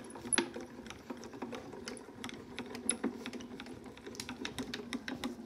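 A craft panel, a triple striplet design, is cranked through a cutting machine with steady ratcheting clicks and a dense mechanical rattle over a low hum, at moderate level with no talking.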